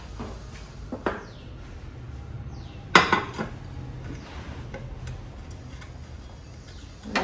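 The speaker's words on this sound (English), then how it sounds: "Let me give a quick mix." A utensil stirs carrot muffin batter for a toddler in a bowl, giving soft scraping and light clinks against the dish, with one sharper knock partway through; no talking.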